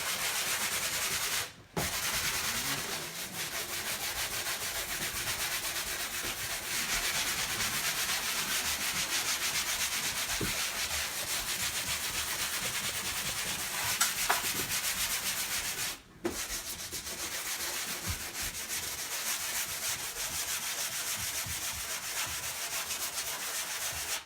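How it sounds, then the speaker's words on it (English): A medium-grit 3M Pro Grade sanding sponge is rubbed back and forth over a surface in steady, close, scratchy strokes for a long stretch, broken by two brief pauses. "in one hand, medium grit sanding sponge"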